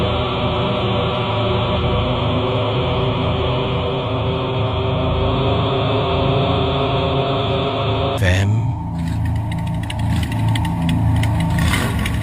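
A motorcycle engine runs as a sound effect in a horror story set at night, a loud steady rumbling idle that cuts abruptly to a different, thinner mechanical noise partway through, with no voices.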